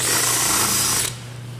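A countersink bit cuts a hole for a threshold. A loud, high whirring drill grinds steadily for about a second, then cuts off, leaving a low hum with no talking.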